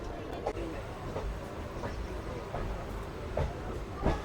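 The Nagercoil Express rolls into Karur Junction with a steady rumble and rhythmic clicks of wheels over rail joints, a continuous moderate drone heard from inside the train.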